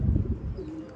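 Racing pigeons coo close by in a soft, low, brief murmuring burst of about a second.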